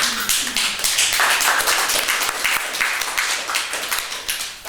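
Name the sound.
audience clapping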